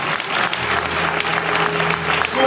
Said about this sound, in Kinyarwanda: Kabuga gukomera Imana amashyi